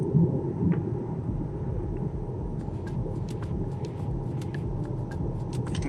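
A turbo-swapped 2017 Volkswagen Passat GLI with a DQ250 DSG gearbox drives along, giving a steady low engine and road rumble with faint intermittent clicks above, no talking.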